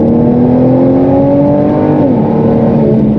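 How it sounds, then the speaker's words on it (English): A 380 hp Volvo V60 Polestar T6 on the autobahn drones loudly from inside the cabin as the driver downshifts with the steering-wheel paddles, the engine tone holding steady and then shifting pitch partway through, with no voices. "we've got pedals behind the steering wheel as well, so I'll shift down a couple of times"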